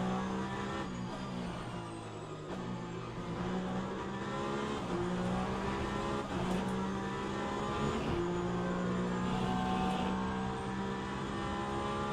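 A Ferrari race car in the racing game Le Mans Ultimate, its engine droning steadily and loudly throughout, with the pitch rising and falling as it revs and shifts.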